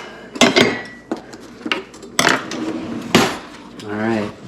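A wooden cutting board and knife clatter onto a kitchen counter in a few sharp knocks and clinks, close up, amid someone talking, ending with a short rising hum.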